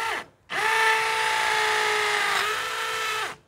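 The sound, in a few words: Bosch GSB 185-LI cordless hammer drill drilling tiled brick wall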